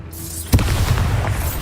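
A spell is cast in Hogwarts Legacy as a sudden loud boom, followed by a dense rumbling burst that stays up close for the rest of the moment.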